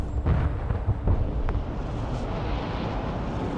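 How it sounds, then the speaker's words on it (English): Artillery strikes in the military strategy game Broken Arrow land as deep, rumbling explosions, several heavy booms early on giving way to a sustained low roar and a sharp crack in the middle. "let's send them artillery support"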